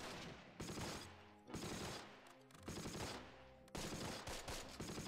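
Repeated bursts of machine-gun and rifle fire in the Close Combat: Wacht Am Rhein war game during a town battle at Dasburg, loud and dense volleys with brief gaps between them, no talk.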